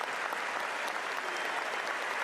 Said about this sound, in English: we have a minute's applause